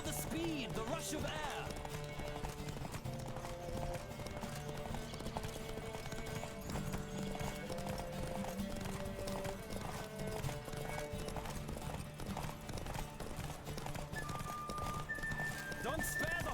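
Galloping horse hooves in The Witcher 3 during a race, rhythmic clip-clop with rushing wind and a background music score, interrupted by brief snorts or whinnies.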